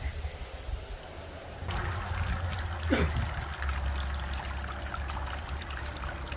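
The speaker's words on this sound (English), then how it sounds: "I need to add a little more water to our bin" Water running into a gold prospecting bin, a steady close trickle and gush that swells partway through, over a low hum, with no talking.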